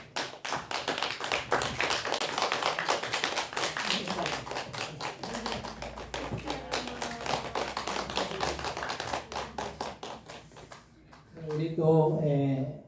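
Inside a church during a Sunday service's baptism, the congregation claps for about ten seconds, many hands in a loud, brisk patter that stops abruptly, followed by a voice speaking.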